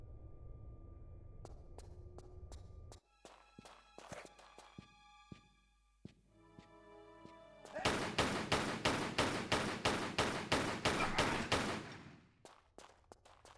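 Gunfire in Tomb Raider 3 Remastered at Aldwych tube station, scattered single shots and thuds, then a sustained rapid burst of repeated shots, fairly close against a quiet backdrop.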